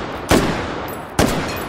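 Two heavy gunshots from a big rifle with a built-in bipod in the VR game H3VR, each a sharp, loud crack spaced about a second apart, followed by a short ringing decay.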